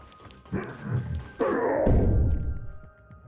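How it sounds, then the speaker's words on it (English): Heavy banging on a door in the Tower of Fantasy video game, two bursts of dull low thuds close together with reverberant rumble and a faint background hum, no speech. "It sounds like someone's banging on the door."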